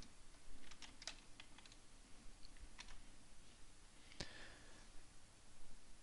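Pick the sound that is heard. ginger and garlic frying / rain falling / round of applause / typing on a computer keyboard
typing on a computer keyboard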